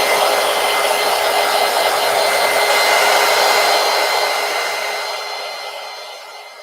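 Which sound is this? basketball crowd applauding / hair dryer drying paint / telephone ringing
hair dryer drying paint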